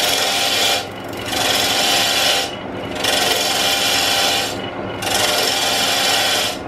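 A wooden wine glass goblet being cut on a Jet wood lathe gives a loud, steady rasping scrape in long passes, broken by short pauses between cuts, with no voices.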